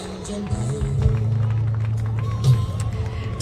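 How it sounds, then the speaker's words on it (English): A crowd cheers and shouts continuously at an outdoor Trump rally, a broad roar with scattered claps and whistles, while a nearby voice talks over it. "The crowd is cheering."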